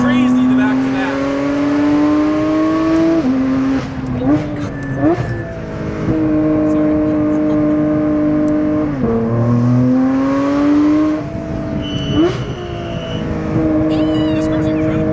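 A Porsche 997 GT3 with its 4.0-litre engine revs hard on the move, its loud, close howl climbing through several gears with brief dips at each shift.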